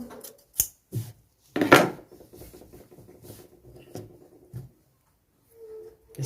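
Scissors snip through the back margin of a tailoring pattern piece, sharp cutting strokes up close with a loud burst near the start followed by softer, quicker snips.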